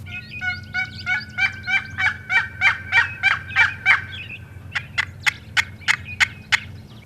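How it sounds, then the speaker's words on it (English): A wild turkey gobbles in a fast, rattling series of calls, clear and fairly close over a quiet low hum. "We heard, what, 2 gobbles?"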